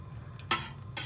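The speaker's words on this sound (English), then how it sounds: "Stirring around, getting it thinned out." Spoon stirring pickled egg brine with sugar in a pot on the stove, giving a few brief scraping swishes against a soft low background hum, close and fairly quiet with no talking.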